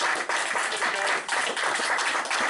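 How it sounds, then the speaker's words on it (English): A crowd at a Warhammer Fantasy Battles tabletop gaming event gives a dense, continuous round of applause, a steady wash of many hands clapping together without pause. "So I think we should all owe Alex a huge round of applause."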